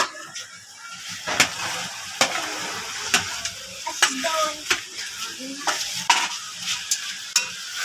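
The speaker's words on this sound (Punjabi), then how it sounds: "ਤੇ ਇਹਨੂੰ ਬਸ ਮਿਕਸ ਕਰਨਾ ਹੈਗਾ ਭਿੰਡੀ ਨੂੰ ਤੇ ਮਸਾਲੇ ਨੂੰ" Fried okra is stirred with masala in a sizzling pan, a spoon scraping and clacking against the metal in irregular strokes over a steady close hiss of frying.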